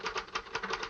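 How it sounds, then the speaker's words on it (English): Rapid typewriter keystrokes from a 1951 office scene, a quick even run of sharp clacks close up over about a second. "I'm typing on the back of it."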